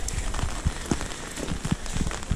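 Steady rain patters on a street in Gijón, Asturias, a constant wash of drops with scattered louder splashes and no one talking.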